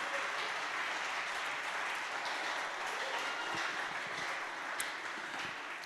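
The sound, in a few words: congregation applauding in church service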